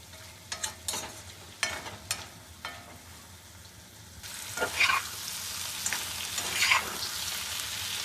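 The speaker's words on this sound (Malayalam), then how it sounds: "ഇടയ്ക്കൊന്ന് ഈ പറഞ്ഞ പോലെ ഇളക്കി കൊടുത്തിട്ട് നന്നായിട്ടൊന്ന് വലിയട്ടെ" Cauliflower thoran being stirred in a pan, Kerala style, with a steady broadband sizzle of frying under repeated scraping and stirring strokes, growing louder and denser in the second half; no talking.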